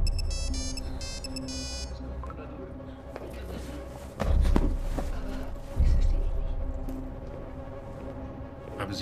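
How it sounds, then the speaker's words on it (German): A phone's electronic ringtone trills in short bursts, then stops; afterwards come thumps and muffled footsteps in a quiet room. "Haben Sie hier ein Handy klingeln hören?"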